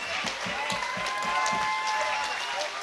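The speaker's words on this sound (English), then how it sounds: "A big round of applause." Crowd applause after an MMA fight between Lerone Murphy and James McErlean, a moderately loud wash of clapping under a commentator's voice.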